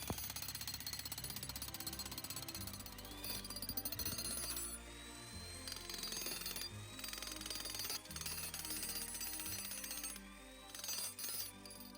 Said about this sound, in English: the jackhammer worked pretty well